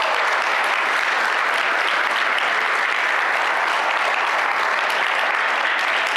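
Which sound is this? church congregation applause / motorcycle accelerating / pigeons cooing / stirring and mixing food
church congregation applause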